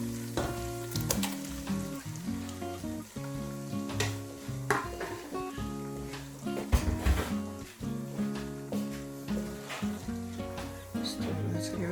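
Blended pepper going into a pot of efo riro vegetable soup base, with steady frying and sizzling throughout, occasional stirring clatter and utensil knocks, close and moderately loud with no talk.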